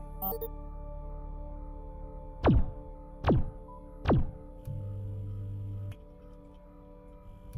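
Three evenly spaced, punchy shots fire from a weapon in the VR space game Space Rift, each a sharp descending zap over a steady electronic hum.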